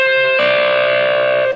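Distorted electric guitar sliding up the neck into a sustained chord that rings steadily for about a second before cutting off, loud and alone.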